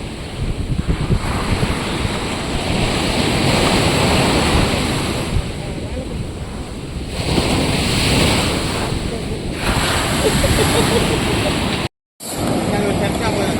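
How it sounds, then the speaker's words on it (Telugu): Ocean waves at Vizag beach, a steady loud surf roar mixed with wind gusting across the microphone, cutting out briefly near the end. "అలల శబ్దం మనం వినొచ్చు."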